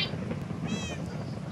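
A cat meows once in a Minecraft-style video game server, a short, fairly clear mew standing out over steady background hum and game ambience.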